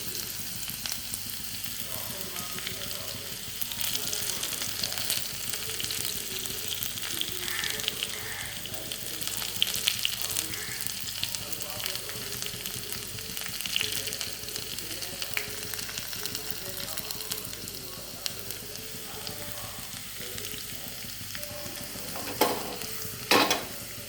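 Shallots fry in hot oil in a pan, a steady close sizzle that runs without a break, with a few light utensil scrapes and a sharper clatter near the end.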